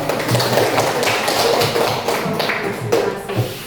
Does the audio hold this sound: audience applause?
yes